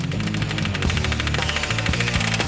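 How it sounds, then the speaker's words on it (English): A pneumatic knockout hammer rattles a titanium investment casting to shake the ceramic shell off, a loud, rapid, continuous machine-gun-like hammering with metallic clatter and no pauses. "the ceramic gets vibrated off by a pneumatic knockout hammer"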